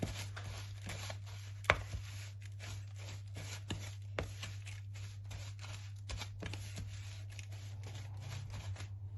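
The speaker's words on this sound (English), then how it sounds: "I'm just going to try and make sure all the cream mixes in" Crushed biscuit truffle mixture is worked with cream, giving soft repeated scraping and tapping sounds at an irregular rhythm over a low steady hum, faint and close.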